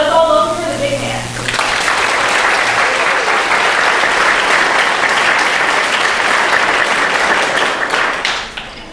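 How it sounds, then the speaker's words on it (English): A large audience at an astronomy talk bursts into sustained applause after a brief spoken introduction, a loud, even wash of clapping lasting several seconds before tapering off. "if you want to clap again when I'm done, that would be great"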